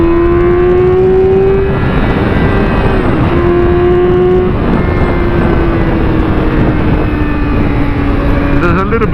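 A motorcycle engine drones loud and close through a ride at around 70% throttle, its pitch climbing and then dropping at quick gear changes, with steady wind rush throughout.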